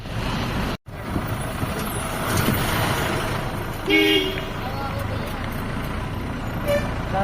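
Heavy road traffic crawls through a crowded rush, trucks and buses rumbling in a steady roar while a vehicle horn sounds clearly partway through over the constant din.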